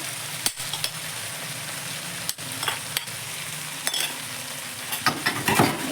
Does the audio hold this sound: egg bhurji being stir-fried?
yes